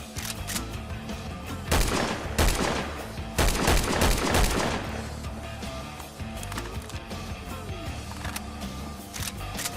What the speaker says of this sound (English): Rangemaster Remastered by Jokers05 with assets from Haru, Navarro and Engaber. The classic hunting rifle from the early Fallouts.